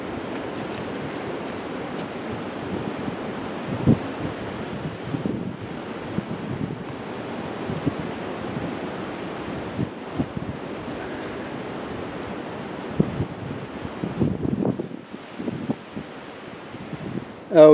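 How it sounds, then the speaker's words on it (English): A headwind gusting across an outdoor disc golf course, buffeting the microphone in uneven rushing bursts with rustling, and a person talks intermittently through it. "the wind is coming at us. It's a headwind, so super tough"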